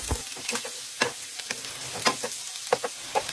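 Garlic, ginger and onion sauté with pork belly (liempo) for laing, a soft continuous sizzle broken by repeated close spatula scrapes and taps in an uneven rhythm, no talk.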